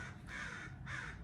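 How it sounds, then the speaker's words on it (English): Two harsh crow caws ring out in quick succession, each a short rasping call separated by a brief pause, fairly close and clear over a low steady background hum. "The crows are with us."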